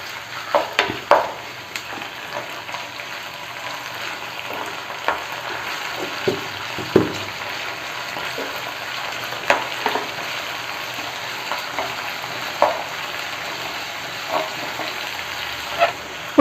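Onions frying with ginger-garlic paste in a pan give a steady sizzle, broken by intermittent scraping clicks as a spoon stirs them, with no talking.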